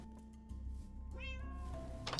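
A kitten in the Minecraft 1.18 survival game gives a single soft, rising-and-falling meow. It is fairly close and low in level over a steady low hum.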